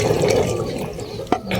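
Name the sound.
draining hot water from boiled eggs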